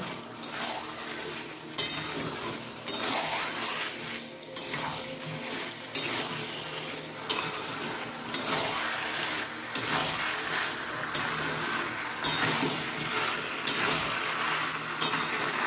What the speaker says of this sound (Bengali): দিয়ে আলু মটরশুঁটি দিয়ে মশলাটা এবার আমি কষিয়ে নেব।